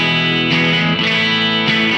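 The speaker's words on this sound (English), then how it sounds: "bridge pickup." Fender Vintera II 70s Jaguar electric guitar on its bridge pickup, bright sustained chords strummed repeatedly in a steady rhythm, close and loud with no voices.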